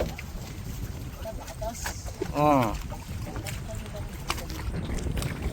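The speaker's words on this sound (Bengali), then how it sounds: "এত ঢেউ" Choppy river water slaps and washes around a small fishing boat in the Sundarbans amid gusting wind noise, with a brief voice calling out midway.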